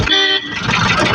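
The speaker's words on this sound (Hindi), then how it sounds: "कोई सामने नहीं है, देख सकते हैं आप लोग, फिर भी हॉर्न मार रहा है।" A car horn honks loudly and close from a moving Bolero, one sustained tonal blast with road and engine noise continuing beneath it.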